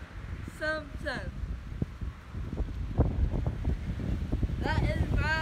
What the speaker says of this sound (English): Right now, it is very windy